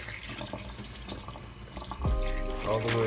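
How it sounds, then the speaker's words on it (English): Tap water runs into a sink while a stocked trout is being cleaned, with a soft trickle first and then a louder, fuller splashing stream as the flow increases, close and continuous. "while I'm running the water in there"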